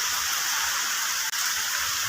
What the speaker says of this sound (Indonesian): hujan serta angin kencang yang membuat mengeri